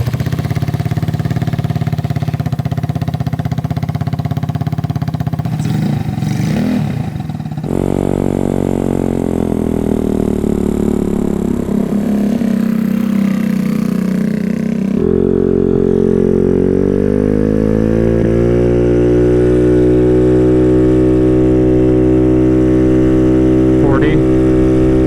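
Yamaha R1 or R6 sport bike with an aftermarket exhaust idling and revving, a loud continuous engine drone that changes pitch in steps as the throttle shifts, close by.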